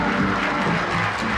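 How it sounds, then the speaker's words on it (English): Crowd applause at a high school homecoming ceremony after the homecoming queen is crowned, a short dense burst of clapping from many hands. "would you give all these young ladies a great round of applause"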